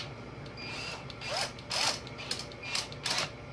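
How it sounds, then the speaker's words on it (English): A cordless battery drill whirs in several short bursts, each a quick buzzing spin that starts and stops close by. "Now I'm going to just take my battery drill."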